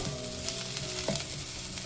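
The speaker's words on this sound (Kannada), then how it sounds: "ಇದನ್ನು ಕೂಡ ಒಂದು ಸ್ವಲ್ಪ ಹಸಿ ವಾಸನೆ ಹೋಗೋ ತನಕ ಮೀಡಿಯಮ್ ಫ್ಲೇಮಲ್ಲಿ ಹುರ್ಕೊಳ್ಳೋಣ" Steady sizzling of onion frying in a pan over a medium flame, with a brief stir partway through; close and continuous, no voices.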